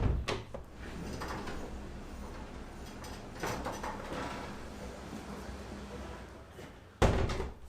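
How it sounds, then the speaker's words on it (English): A door is shut indoors with a few knocks and shuffles early on, then one sharp loud slam near the end against a quiet room background. "Now I will close the door so I don't get that smell into my place"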